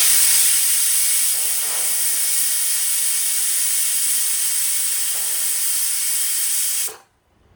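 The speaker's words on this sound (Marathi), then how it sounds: "तर 3 शिट्ट्या झालेल्या आहेत आणि कुकर सुद्धा थंड झालेला आहे" A long, loud, steady hiss of escaping steam from a pressure cooker whistle on medium heat, with no pauses, cutting off abruptly near the end.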